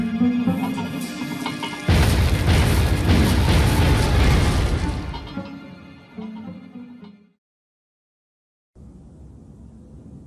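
A bomb blast in the Oceanhorn video game cinematic: a sudden loud, roaring explosion that rumbles for a few seconds, fades into debris and machinery noise, cuts to silence, then returns to a low ambient hum.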